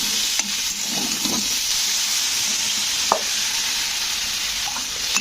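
Vegetables for neem sukto sizzle steadily in a pan with salt, turmeric and water while a spoon stirs, adding a few light scrapes and clinks over the constant close frying hiss.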